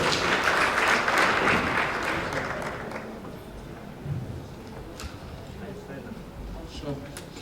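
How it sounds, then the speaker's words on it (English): Audience applause at an adolescent girls and young women summit, a burst of loud clapping for about three seconds that tapers off into a murmuring crowd, with voices talking as it fades. "You can give yourselves a big hand of applause."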